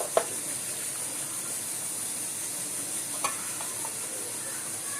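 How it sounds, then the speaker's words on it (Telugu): Hot oil tempered with mustard seeds, cumin and fenugreek is stirred into pickle pieces, making a faint steady sizzle with a few sharp clicks of a spoon against the pot. "ఆయిల్ వేడి చేసుకొని ఇందులో ఆవాలు, జీలకర్ర, మెంతులు వేసి తాలింపు వేసుకొని ఇదంతా ఈ ముక్కలకు మొత్తం పోసి"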